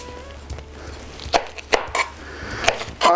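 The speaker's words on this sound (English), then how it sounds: "let's cut this into nice chunks" A knife chopping red and yellow bell peppers into chunks on a cutting board, several sharp separate thunks at an uneven pace, close and clear with no talking.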